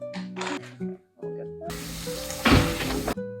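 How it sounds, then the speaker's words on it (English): Ground meat for lasagna sizzles and fries in a pan, broken up by a wooden spoon, with a loud hissing burst midway and scraping stirs close by. "I'm using a wooden spoon to break up the meat"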